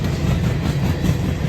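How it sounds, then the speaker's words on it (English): Empty Norfolk Southern freight gondolas roll past at dusk in Glendale, Ohio, a loud, steady rumbling roar of rail cars with a faint clickety-clack, close by and continuous throughout. "I would anticipate it's a scrap metal train"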